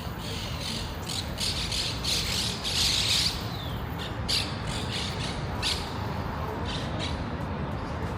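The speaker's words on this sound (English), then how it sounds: "apparently there's just a whole bunch of wild parrots" Wild parrots squawk in a lively outdoor flock, with repeated harsh, rasping calls overlapping in bursts over steady background noise.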